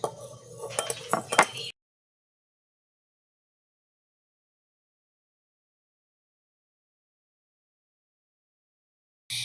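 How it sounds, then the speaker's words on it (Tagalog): A fork rapidly beating eggs in a bowl for scrambled eggs, giving a quick run of metallic clinks for under two seconds before the sound cuts to silence. "Haluin gamit ng tinidor."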